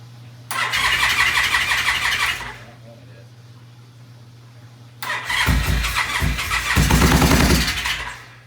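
A gold motorcycle being started for the first time, its engine catching and revving in two loud, rough bursts separated by a pause, close by with a steady low hum underneath.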